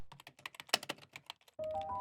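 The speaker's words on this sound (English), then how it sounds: "he could still hear her typing away" Rapid, irregular keystrokes on a computer keyboard in an office, a close run of crisp clicks that stops abruptly, followed by a steady electronic tone.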